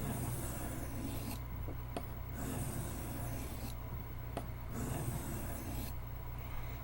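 Camillus electrician's knife being sharpened on a stone, its bevel worked to raise a burr: steady rasping strokes repeat in a rough rhythm over a constant low hum, close and moderately quiet.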